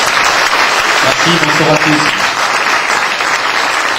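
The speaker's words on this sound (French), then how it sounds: "Je vous demande d'applaudir très fort." Audience applause fills a business association's annual general meeting in Aubagne, a steady dense wash of clapping that runs throughout, with a voice speaking briefly over it.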